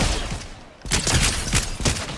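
Sniper rifle gunfire in the video game Fortnite: a quiet stretch, then a burst of sharp, loud shots in quick succession with dense, ragged rhythm, close and full, with no talk over it.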